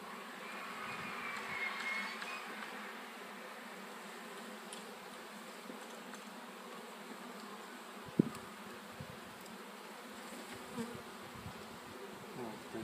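Honeybees buzzing steadily in an open Wielkopolski-type hive during a spring inspection, a continuous close drone with a single sharp tap partway through.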